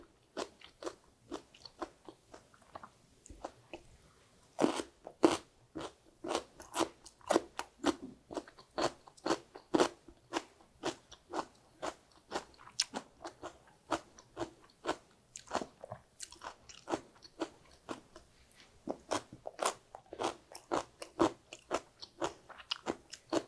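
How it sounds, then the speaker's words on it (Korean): Crunchy cabbage kimchi, made with a sauce of ground pear and no sugar, is bitten and chewed close up, giving repeated loud, crisp crunches in irregular bursts with short pauses between them and no talking. "아삭아삭하니 아주 맛있습니다."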